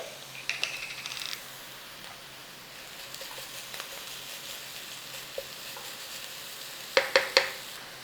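Ginger and garlic frying in a pan for a cheap curry, a faint steady sizzle with a few light metallic clinks and scrapes, including a quick cluster of taps near the end, no talking.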